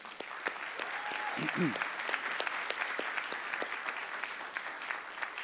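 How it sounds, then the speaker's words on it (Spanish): A church congregation gives strong applause during a Sunday sermon service, a fairly faint, even clatter of many hands held steady throughout, with a brief whistle-like tone early on. "¿por qué no le damos un fuerte aplauso?"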